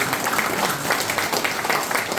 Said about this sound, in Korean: 힘내시라고 박수 한번